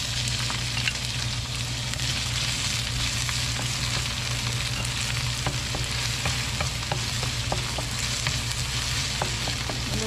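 Chopped onions frying in about two tablespoons of oil for Filipino beef pares, a steady dense sizzle running throughout with scattered light clicks of a utensil stirring the pan, close and continuous with no talk.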